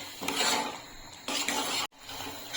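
A spoon scrapes and stirs homemade pizza sauce seasoned with oregano and chili flakes in a pan, making two close bursts of rasping, gently sizzling sound broken by a brief pause.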